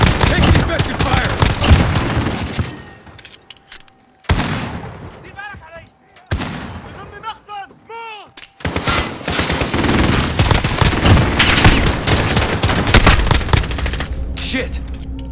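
Heavy automatic gunfire in the video game Modern Warfare roars in loud, dense bursts with brief lulls and sharp single shots between them, while voices shout over the combat.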